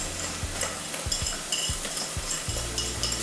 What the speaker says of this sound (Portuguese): Aí eu vou colocar o alho